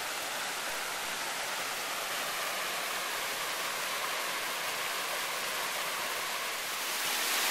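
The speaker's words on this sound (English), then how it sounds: "This is a little bit of a waterfall here." Small waterfall on a mossy mountain trail, a steady broadband rushing of falling water that stays constant and fairly faint throughout, with no voices.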